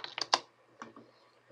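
Fingers tapping out a short burst of keystrokes on a computer keyboard, a quick cluster of clicks followed by a pause and a few softer taps, close and quiet with no talking.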